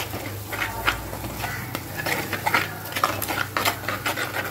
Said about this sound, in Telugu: మనం మసాలా దినుసులు పచ్చి వాసన పోయేంత వరకు ఫ్రై చేసుకుందాము